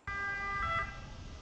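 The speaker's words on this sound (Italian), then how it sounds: "un'ambulanza arriva a sirene spiegate all'Annunziata di Cosenza" An ambulance siren wails as the vehicle arrives at the Annunziata hospital in Cosenza, a steady tonal blare with a slight pitch swell, fairly faint and heard alone.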